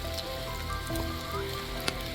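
Rain falls in a deep forest in Laos, a steady close hiss of drops on foliage and ground with a faint brief patter, heard alone with no talk.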